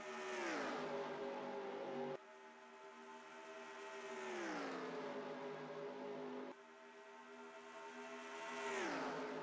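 Race cars lapping Auto Club Speedway in California in a racing game, engines whining at steady high revs and sweeping past in repeated waves, with pitch dropping as each car goes by.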